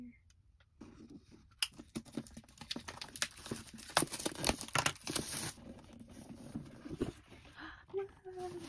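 A heavy package being unboxed with a cutter, with crinkling and tearing of wrapping, sharp clicks and snaps in irregular bursts, close by, and a person talking now and then.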